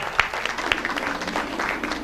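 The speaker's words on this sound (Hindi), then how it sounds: "जिसके आने के टाइम हमने तालियों से जिनका स्वागत किया, हेजल पूनम मितेश रायकुंडलिया।" Audience applause welcoming a guest at a women's honour ceremony held for International Women's Day, a steady dense burst of clapping from a crowd with a few sharper claps standing out.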